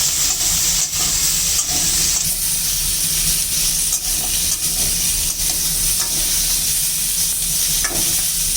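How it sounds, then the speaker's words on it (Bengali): Pointed gourd and potato pieces frying with turmeric in a pan give a loud, continuous sizzle with crackling hiss and intermittent scraping from stirring, close and unbroken, with no one talking. "মাছটা রান্না করব আলু পটল দিয়ে, তাই পটল এবং আলুটাকে একটু ভেজে নিচ্ছি।"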